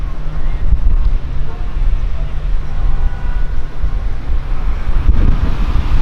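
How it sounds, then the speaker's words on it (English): Strong wind buffets a microphone fitted with a dead cat furry windscreen on a street walk in Hollywood, Florida, a steady low rumble lasting throughout with a few stronger gusts, no voices. "And it is very, very windy."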